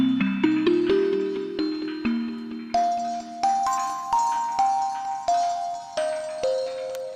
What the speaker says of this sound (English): how to create an ethnic bell pluck using Massive X